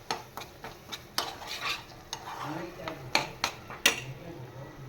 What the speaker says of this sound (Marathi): पण हे सगळं छान असं परतून घ्यायला पाहिजे आपल्याला मस्तपैकी, तरच पावभाजी मस्त लागते.